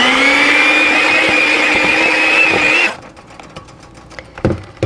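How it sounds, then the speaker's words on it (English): An electric hand mixer whirs steadily for about three seconds as it beats banana bread batter in a bowl, then cuts off, leaving quiet scraping and light clatter. "now I'm going to beat that until it's just combined"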